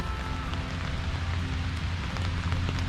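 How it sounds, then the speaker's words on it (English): Steady rain falls across a cemetery of old crypts in Lexington, Kentucky, a dense, even patter holding at constant loudness with no voices. "It's raining."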